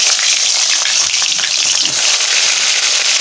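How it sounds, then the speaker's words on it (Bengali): Eggplant pieces fry in hot oil, a loud, dense and continuous sizzle with crackling spatters throughout and no voices. "তো এখন এই বেগুনগুলোকে একটু তেলে ভেজে নিব, যাতে করে সুন্দর গ্রান আসে রান্না করার সময়।"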